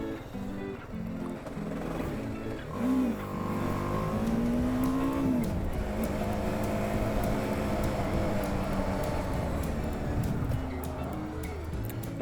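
A BMW G 310 R motorcycle rides through traffic, its steady engine drone and rising revs loud and continuous, with brief pitch sweeps as it accelerates and traffic noise around it.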